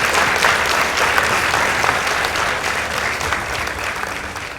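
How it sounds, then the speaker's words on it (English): Audience applause at a school debate contest fills the whole span, a steady, dense wash of many hands clapping after results are announced, loud and continuous with no speech over it. "Please give them a round of applause."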